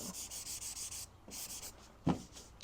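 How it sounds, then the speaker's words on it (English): Steady rhythmic rasping of sandpaper on the body of a 1972 Ford Maverick Grabber, strokes repeating back and forth at a moderate pace, fairly quiet with a brief knock near the end. "I'm spending a couple more days sanding it"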